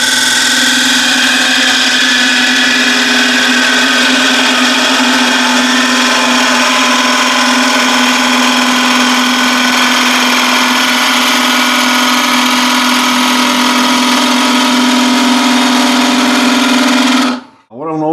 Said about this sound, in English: Now I need to get the cut nice and flowing